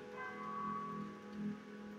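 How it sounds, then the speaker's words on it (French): Church bells ring far off, faint and droning beneath a steady hum of ambient noise, with soft sustained tones and no voices. "Vous percevez au loin le bruit des cloches d'une église."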